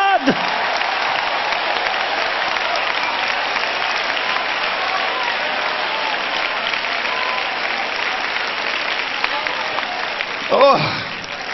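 A church congregation claps steadily and loudly at a revival-style service, a thick continuous wash of applause that holds for around ten seconds, with a voice briefly rising near the end.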